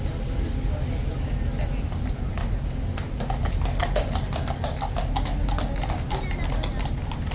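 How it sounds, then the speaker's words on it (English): Hooves clip-clopping steadily as horses walk on a hard surface, a brisk rhythmic clatter over a low background rumble with voices talking. "I don't recognise the horses coming in behind"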